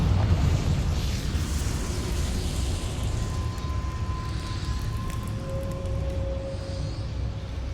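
Confringo blasting spell in Hogwarts Legacy erupts as a loud, sustained fiery roar with a thick rumbling body and thin tonal whines that persist for several seconds, filling the space without pause.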